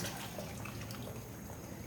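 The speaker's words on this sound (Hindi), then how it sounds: "अब इसमें हम ये शोरबा जो था हमारा ये इसमें डाल देंगे" Broth pours into a pot of fried beef trotters cooked in ghee, giving a faint, steady liquid wash and trickle that runs alone at a low level.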